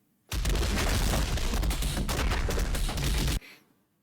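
Fireworks in the game Red Dead Redemption 2, a dense rapid crackling barrage of bursts lasting about three seconds before cutting off abruptly, loud and close with no voices.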